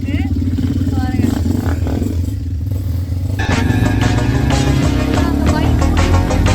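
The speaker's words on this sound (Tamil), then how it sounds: "நாங்க இப்போ ஆஃப் ரோட் பைக் ரைடிங் பண்ணிட்டு இருக்கோம்" An off-road motorbike engine drones steadily throughout a ride in Wayanad, with clattering and a rise in revs partway through; voices murmur faintly underneath.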